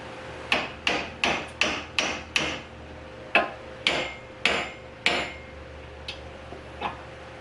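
A hammer knocks a rusted bushing out of a Scag V-Ride stand-on mower during belt tension bearing replacement: about ten sharp, ringing metal strikes in a steady run, a short pause, a few more hits, then faint light taps.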